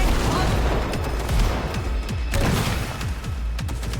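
Heavy Panzer turret fire in a video game, a string of loud booming blasts and rapid gunfire bursts in quick succession, with a player's voice talking over the action.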